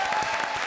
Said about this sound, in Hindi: मेरे लिए भी ताली बजाया यार